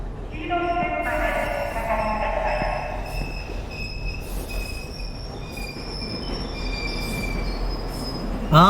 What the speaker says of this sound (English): Well, here's my train.